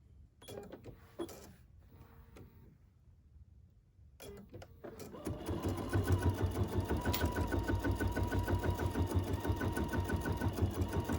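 A longarm quilting machine stitching an edge-to-edge pattern on a block-of-the-month quilt. After a few quiet clicks and handling noises, the machine starts up and runs with a loud, fast, steady rhythmic chatter.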